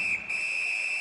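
Referee's whistle in the NHL 19 ice hockey video game during a Columbus Blue Jackets versus Calgary Flames match, one sustained shrill tone held for the whole second, close and steady.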